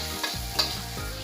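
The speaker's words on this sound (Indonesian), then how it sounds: "Tumis bawang putih, masukkan, kemudian sekalian bawang merah" Garlic and shallots stir-fry in a wok with a bright, steady sizzle and two quick clanks of a spatula, close and alone, with no voices.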